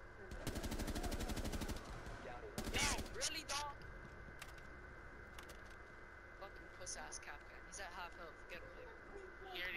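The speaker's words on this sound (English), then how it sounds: "Someone's shooting me" Rapid automatic gunfire from Rainbow Six Siege, a loud sustained burst at the start followed by a second short burst, then quieter scattered in-game clatter and clicks while players talk over it.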